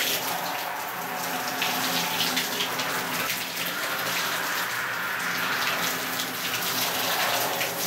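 A strong water jet sprays continuously onto a North Way windstopper membrane suit, producing a loud, steady gushing hiss throughout with no speech.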